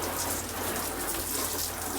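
Steady broadband rush of running water close by while a shower is rinsed down with a cloth, continuous and even with no voices.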